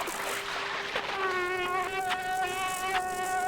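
A thin, high mosquito-like whine hums steadily in the Limbo game, a close insect buzz holding a constant tone with slight wavering, heard alone without talk.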